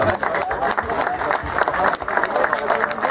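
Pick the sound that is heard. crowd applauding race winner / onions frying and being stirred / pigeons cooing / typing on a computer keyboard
crowd applauding race winner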